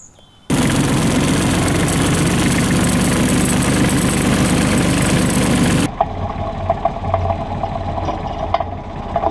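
A tractor engine runs at close range, loud and steady with a dense rumble for several seconds. It then drops to a quieter, uneven idle.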